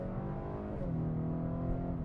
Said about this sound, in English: I heard the engine a lot there